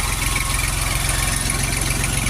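A 2024 Jinma reverse 24 hp tractor with a KM385 engine on wide wheels idles steadily, its close, loud diesel chugging in an even rapid rhythm with vibration and no talk.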